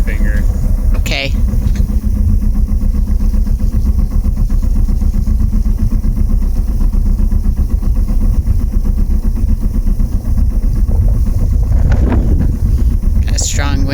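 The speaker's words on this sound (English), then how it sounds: "Got a strong wind pushing us into it." Strong wind buffeting the microphone on a boat docking near Hoonah, Alaska, a constant rushing roar blended with a steady idling engine while people talk.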